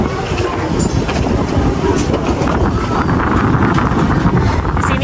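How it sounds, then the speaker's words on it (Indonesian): Strong wind buffets the microphone outdoors on a hot day in Japan, a loud continuous roar and rumble with no clear pauses. "tapi anginnya kencang"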